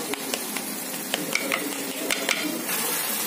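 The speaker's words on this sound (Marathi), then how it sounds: "आता टमाटर न मिरची टाकून देऊ।" Tomato and chili hit onion frying in a pan, which sizzles steadily while a utensil stirs and scrapes with light clicks against the metal.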